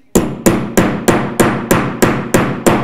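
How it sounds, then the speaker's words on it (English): Eight sharp, evenly spaced hammer blows drive a fastener into place, each strike loud and close with a brief ringing decay. "Give it a good hammer, and that is not going anywhere."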